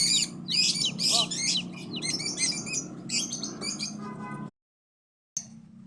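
A chick with four legs chirps loudly and close in rapid, repeated high tweets that run almost continuously, then stop briefly before one more chirp.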